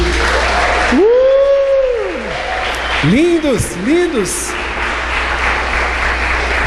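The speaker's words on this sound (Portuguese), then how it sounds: "A igreja aplaude aí." A church congregation claps for a newlywed couple, a dense, sustained burst of applause filling the room while a voice speaks over it through the amplification.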